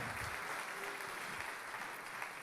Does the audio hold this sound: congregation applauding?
yes